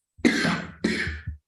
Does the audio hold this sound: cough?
yes